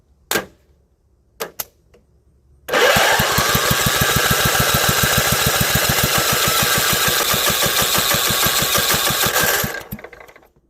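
A Craftsman hydrostatic riding mower engine turns over, then fires and runs for about seven seconds with a loud, rough, rapid chugging before cutting out; a few brief clicks precede the start.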